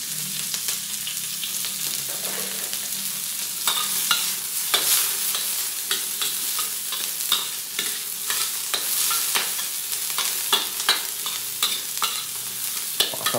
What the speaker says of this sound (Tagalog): Gisa natin to, sibuyas bawang.